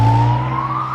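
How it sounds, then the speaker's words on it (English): An ambulance siren passes during outdoor yard work, a loud steady wail that rises slowly in pitch over a second with low rumble beneath, dominating the scene with no talk. "Ambulance going."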